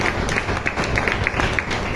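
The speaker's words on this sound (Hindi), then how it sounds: "मैं ताली बजा के परमेश्वर को धन्यवाद।" Congregation clapping in a church during a sermon. Close, steady rhythmic claps with some crowd noise underneath, loud and continuous for about two seconds.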